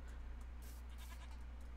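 A goat bleats in a modded Minecraft survival game, a short burst of game bleating over a steady low background hum.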